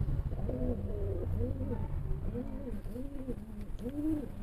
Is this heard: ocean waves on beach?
no